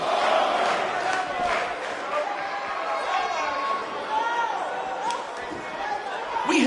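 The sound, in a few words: arena crowd cheering, from the video game WWE 2K19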